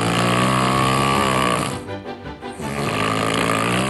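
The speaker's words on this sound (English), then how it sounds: "The sound of his snoring is like he is swallowed an industrial-sized lawnmower." Loud, harsh human snoring with a rough, rasping, engine-like drone that dips briefly in the middle, then resumes at full strength.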